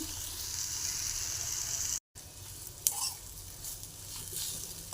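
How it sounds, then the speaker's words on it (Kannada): Capsicum rice bath fries in a pan with a soft, steady sizzle, quiet and close, broken by a brief dropout and a small clink of stirring partway through, with no voices. "ಇನ್ನೊಂದು 2 ನಿಮಿಷ ಫ್ರೈ ಮಾಡ್ಕೋಬೇಕು."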